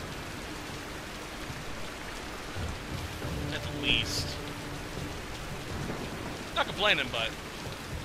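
Steady rain and a low rumble of distant thunder in the video game Tomb Raider (2013), a constant wash of rainfall with a brief rise near the end, while someone talks briefly over it.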